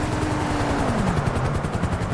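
A helicopter in GTA Online thumps loudly nearby, its rotor chopping in a fast steady beat over a dense engine roar while a whining tone slides downward.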